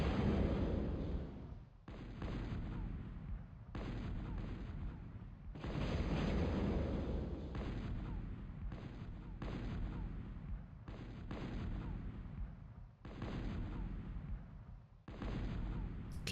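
Plasma cannon fire in Total Annihilation: Core Contingency, a string of about nine heavy booming blasts at uneven intervals, each with a rumbling tail, loud and close with no voices.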